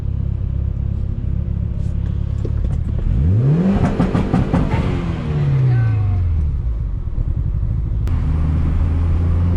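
A Mitsubishi Lancer Evo 8 with low compression and heavy cylinder leakage revs hard from inside the cabin, the engine note climbing through a gear and then falling as it lets off, loud and close over steady road rumble.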